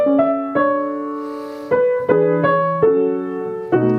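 Piano playing Debussy's first Arabesque legato without pedal, a clear solo line of connected notes with fresh attacks every half second or so, close and full, with no voices.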